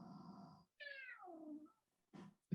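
A pet cat meows clearly and up close, one long rising-then-falling call after a shorter vocal sound, followed by a brief quieter noise; no talking.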